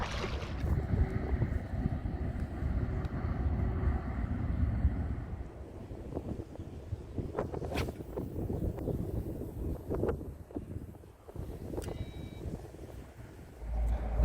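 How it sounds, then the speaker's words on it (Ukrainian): Strong wind buffets the microphone with a steady low roar over splashing water on the Dniester River in spring, gusting throughout with no voices. "дуже сильний вітер"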